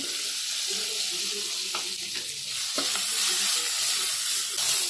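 Cauliflower florets hiss and sizzle in a hot pan of yogurt potato curry with coriander while a spoon stirs them, giving a steady frying crackle with a few soft scraping knocks and no talk.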